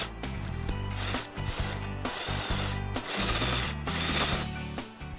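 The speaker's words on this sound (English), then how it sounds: "now underneath I'm going to drill a hole that's a little bit smaller than the size of my dowel" A steady, loud mechanical grinding and whirring as a drill bores a hole into the underside of a pumpkin, running continuously with brief dips in intensity.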